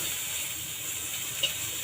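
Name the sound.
salted dried hilsa fish frying in oil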